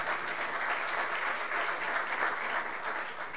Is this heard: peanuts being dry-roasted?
no